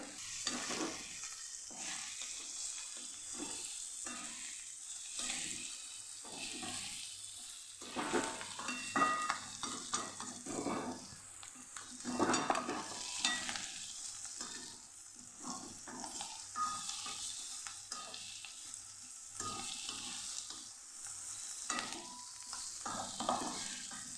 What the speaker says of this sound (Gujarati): સરસ એને પણ સાતડી લઈશું ડુંગળી સાથે